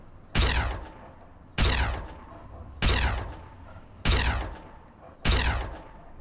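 Gunfire in the Fallout 3 video game: five evenly spaced, sharp single shots about a second apart, each with a decaying tail, loud and alone.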